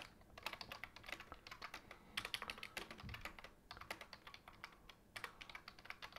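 Steady, rapid keystrokes clatter on a computer keyboard as a new sentence is typed into a document, soft and close, with brief pauses between runs of keys.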